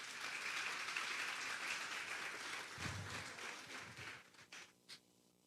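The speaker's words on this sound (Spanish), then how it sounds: "Denle un fuerte aplauso pues al Señor." Congregation applause at a Sunday church service, clapping for the Lord; a fairly faint, steady wash of claps that thins and breaks into a few scattered claps and noises near the end.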